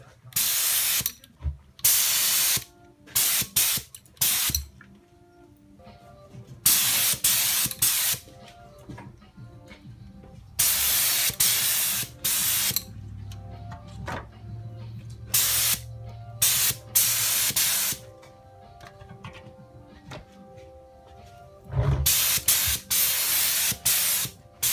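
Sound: spray gun painting a coat on car bodywork

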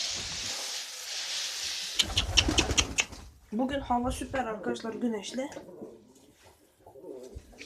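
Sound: bird cooing

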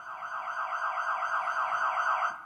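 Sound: siren sound effect from digital piano

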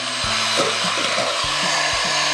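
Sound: beating eggs for cheesecake filling

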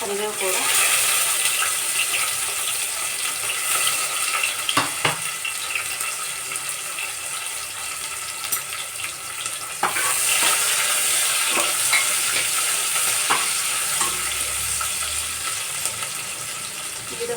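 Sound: frying food in a pan

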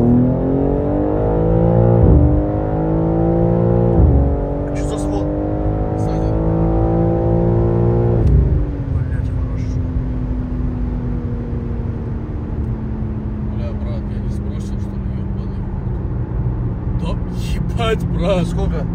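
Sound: BMW M3 G80 Stage 2 car accelerating

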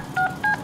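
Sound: phone dialing tones in Deadpool video game

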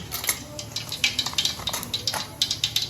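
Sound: mustard seeds sizzling in hot oil

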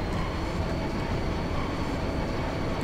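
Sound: train departing for Delling City in video game Final Fantasy VIII

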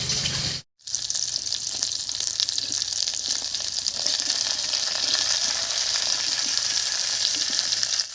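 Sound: cauliflower and potato frying in pan

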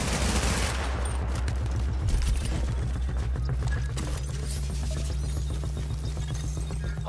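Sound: enemy gunfire in the video game Tom Clancy's The Division

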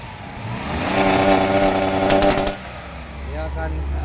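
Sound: Daihatsu Xenia 1000 car engine revving, popping, limited at 3000 RPM

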